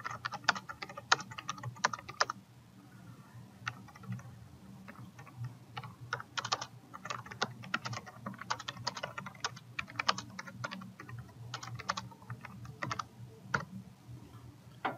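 Steady typing on a computer keyboard, with irregular bursts of close key clicks running throughout and no talking.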